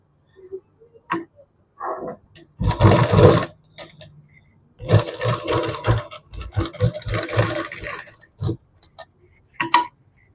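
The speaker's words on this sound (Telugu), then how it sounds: "ఇప్పుడు నేను టైట్ కుట్ పెట్టుకొని కుట్టుకుంటున్నాను" A sewing machine runs a tight stitch around a Punjabi dress neckline in short bursts of rapid, near, loud motor-driven stitching separated by pauses and small clicks.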